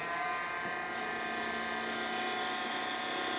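Wood lathe turning a small box blank with a roughing gouge, giving a steady close whirring drone with a hissy cutting layer that brightens after the first second, continuous with no pauses.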